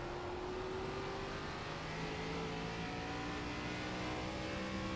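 ARCA stock car in the iRacing sim at USA Speedway, engine holding a steady, sustained drone with faint pitch shifts, heard alone and fairly quiet.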